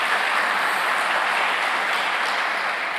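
A church congregation bursts into sustained applause, a thick, even roar of many hands clapping at fairly close range with no talk over it.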